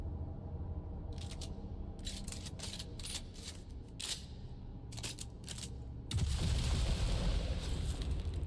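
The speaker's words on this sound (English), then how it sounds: "a big-ass explosion happening on the outside of this building would kind of give it away" Explosions go off outside a building in the video game Dune Awakening, a run of sharp bursts and pops ending in a loud, sustained rumbling blast over steady background noise.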